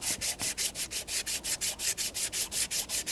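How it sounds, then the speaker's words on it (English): Fine grit emery cloth rubs back and forth on an aluminum surface near the knock sensor of a 2014-2019 Toyota Corolla 1.8L, making a quick, even rasp of about fifteen close strokes. "That's why I use a real fine grit emery cloth."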